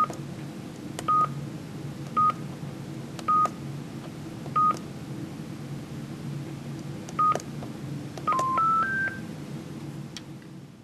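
Telephone dialing tones from a Caresse Plus home-assistance device, configured to add an outside-line prefix: a string of short, clean DTMF beeps spaced apart, then a quicker cluster near the end, over a steady low hum.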